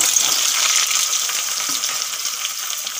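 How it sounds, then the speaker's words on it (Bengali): Potatoes frying in hot oil for aloo dum, a dense continuous sizzle with fine crackling, steady and close throughout with no talk. "তেল গরম হয়ে গেছে, এখন আলুগুলো ভেজে নেব।"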